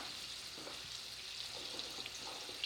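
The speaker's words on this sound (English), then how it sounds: "we're going to go ahead and flip the salmon over" Salmon fillet sears in a skillet with a steady, quiet hiss of fat throughout, broken by a few soft clinks and shuffles as the fish is turned.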